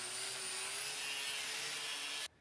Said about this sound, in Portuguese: Agora vamos lixar a costa dela